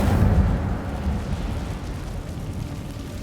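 A fiery burst from the Incendio spell cast in Hogwarts Legacy, a loud whooshing roar that flares at once and then settles into a steady rumbling crackle, with no voices.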